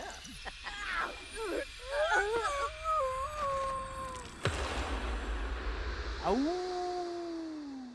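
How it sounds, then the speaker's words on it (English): A werewolf in The Sims 4 lets out long, wavering howls, one drawn out over several seconds and another rising after a sharp thud, with game ambience and faint earlier yips behind. "He howled and it took and put his fury down"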